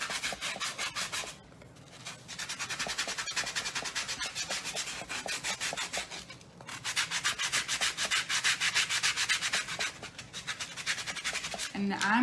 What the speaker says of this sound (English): So you get these from the Dollar Tree and you just sand them down.